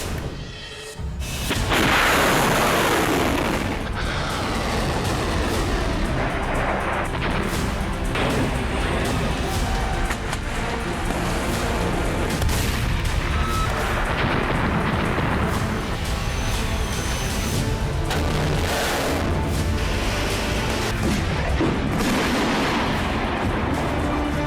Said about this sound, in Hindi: अमेरिका ने हूती के ठिकानों पर बंकर बस्टर बम से हमला किया है।